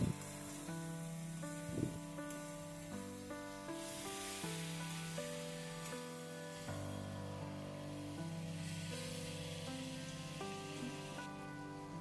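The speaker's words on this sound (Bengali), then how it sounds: "হলুদ গুঁড়ো, লবণ হলুদ দেওয়ার পর আবারও আমি ভেজে নিব কিছুক্ষণ" Small mola fish frying in a pan with turmeric powder and salt, giving a steady close hiss and sizzle like rain on a surface that runs unbroken throughout, with light spattering and no talking.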